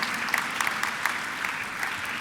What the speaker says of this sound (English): can we give a big round of applause to the Pasadena Fire Department Honor Guard for presenting the flags